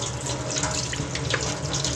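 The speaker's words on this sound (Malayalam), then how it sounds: "നമുക്കിത് നന്നായിട്ട് വെള്ളത്തിൽ ഒന്ന് ജസ്റ്റ് സ്റ്റെയിൻ ചെയ്തെടുക്കാം" Water gushes steadily from a tap into a sink as homemade paneer is rinsed, a continuous close, loud splashing rush.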